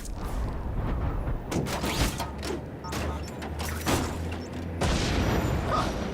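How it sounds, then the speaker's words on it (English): Fireworks explode in The Amazing Spider-Man 2 video game, several sharp booms and crackling bursts scattered through the clip over a low rumbling game background, with no voices. "Friendly neighborhood fireworks."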